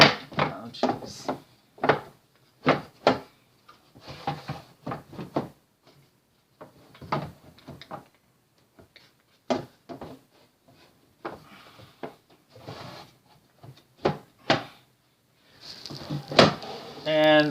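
Craft-supply drawers holding embroidery hoops and stitching supplies slide and bump open and shut in a series of short, close wooden knocks and scrapes, mixed in with someone talking.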